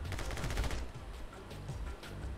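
Rapid bursts of gunfire from the video game My Friend Pedro, with a fast run of shots at the start followed by a few scattered ones over a low background.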